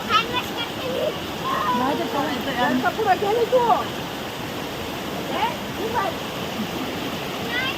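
A small waterfall pours in a steady rushing wash beside cold pool water, close and continuous, while several people talk and call out over the noise.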